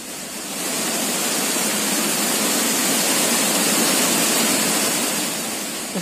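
Large volume of released dam water surging down the Cauvery river in flood: a loud, continuous roaring rush of water that swells in at the start and holds steady, with no talk.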